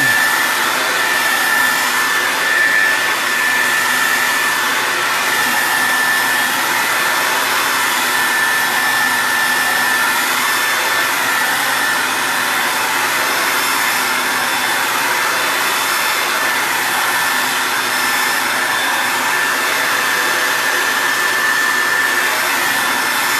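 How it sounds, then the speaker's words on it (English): A blow dryer runs steadily and loudly for the whole stretch, drying a craft project, a rustic reindeer wreath. It holds a constant whine with no pauses and no talk over it. "now I'm going to hit it with a blow dryer"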